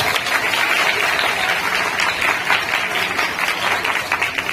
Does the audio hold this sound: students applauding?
yes